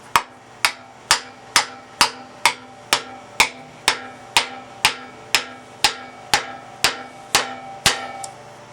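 A small toy hammer taps a wooden block against a lathe headstock handwheel on its shaft in a steady, even rhythm, about fifteen sharp, ringing knocks close up with no talking.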